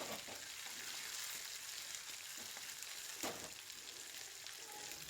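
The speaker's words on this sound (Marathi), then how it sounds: "तर लगेच त्याच्यामध्ये मिक्सरला बारीक केलेली पेस्ट टाकते आणि सगळं मस्त मिक्स करून घेते" Ground spice paste made from a mixer-blended mix with mace, nutmeg and cardamom frying and being stirred in a pan for a dry chicken dish, a steady soft sizzle with occasional scraping stirs, no talk.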